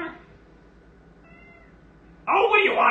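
A house cat gives one loud, close meow near the end, preceded by faint earlier mews and quiet room noise in a home kitchen.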